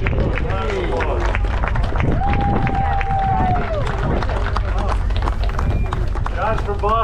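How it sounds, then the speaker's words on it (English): Audience applause for a man named John Wojcik at closing ceremonies aboard the SS John Brown Liberty ship, a dense steady patter of many hands under crowd babble and a whistle-like tone, continuous and fairly loud throughout. "Let's give him a round of applause."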